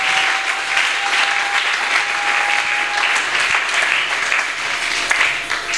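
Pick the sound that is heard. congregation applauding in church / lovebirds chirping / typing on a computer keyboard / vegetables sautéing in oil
congregation applauding in church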